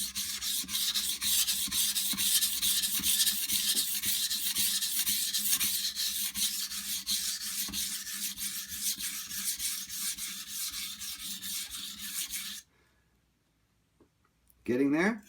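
Steel knife blade being thinned on a sharpening stone, a steady rasping scrape of repeated strokes for about twelve seconds, close and loud, then a pause and a brief burst of rubbing at the end.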